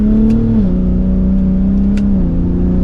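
A 2023 Ford F-150 Raptor truck engine drones loud and steady from close by while in manual paddle-shift mode, its pitch stepping down twice as gears change.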